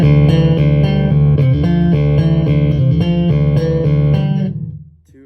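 Bright, twangy Ibanez GSR 200 electric bass with treble fully up and a clanky top end, played as a continuous line of plucked notes up close before ringing out and fading.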